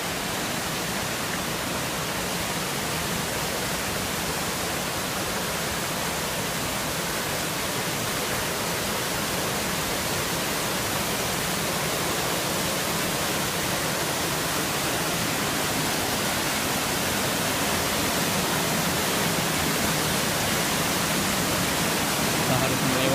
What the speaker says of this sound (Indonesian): kita sudah sampai di wisata alam air terjun Hulu